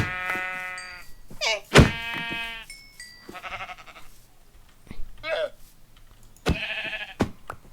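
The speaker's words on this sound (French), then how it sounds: "Je vais prendre les moutons là." Blocky video-game sheep bleat in quick succession, several clear wavering calls close up, with a few soft thunks between them and no voices.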